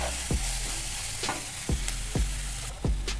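Chopped onion sautéing in a pan for kanda poha sizzles steadily. A spatula scrapes and stirs it in about five distinct sweeps, each a sharp knock against the pan.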